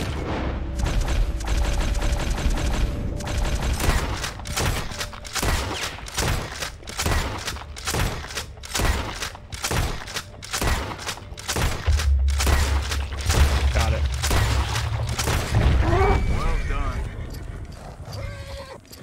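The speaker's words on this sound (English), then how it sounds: "Had to take a lot of shots at it." Rifle shots fired while hunting with a varmint rifle in Red Dead Redemption 2, a run of sharp loud bangs in quick succession over game ambience with horse sounds and a voice talking.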